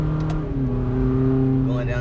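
A 2017 Toyota Corolla with a muffler delete under light acceleration, giving a loud, close, raspy exhaust drone whose pitch climbs slowly and steadily through a gentle rev, with a voice briefly over it.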